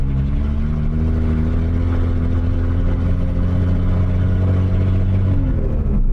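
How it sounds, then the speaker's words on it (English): A Datsun 280Z with an L28 straight-six and straight pipe exhaust drones loudly and close at steady cruising revs on a road test. The low, raspy exhaust note holds throughout with small pitch shifts and no voices. "This thing just sounds ridiculous with that straight pipe."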